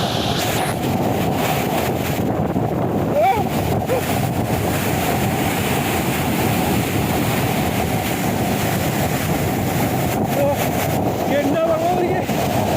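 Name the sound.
strong wind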